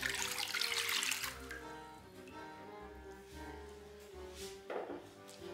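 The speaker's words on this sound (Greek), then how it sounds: "Σε ένα μπολ ανάμιξης βάζουμε όλο το νερό." Water runs steadily from a tap into a mixing bowl for dough, a continuous close splashing pour with a few brief changes in tone.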